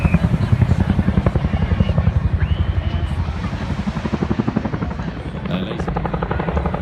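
A display helicopter slows and swings into a sharp handbrake-style turn at the Bournemouth Air Show. Loud, close rotor blade slap pulses rapidly and steadily throughout, with a commentator's voice partly over it.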